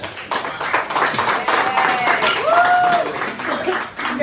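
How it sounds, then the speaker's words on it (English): A crowd at a political event for a Texas candidate applauds and cheers, with continuous clapping, whoops and a few whistles rising and falling throughout. "pay attention to the response of the crowd"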